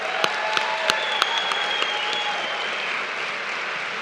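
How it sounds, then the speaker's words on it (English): An audience at an evening live storytelling stage show claps steadily. A few sharper individual claps stand out over the broad, even applause, which stays full and continuous throughout. "Round of applause."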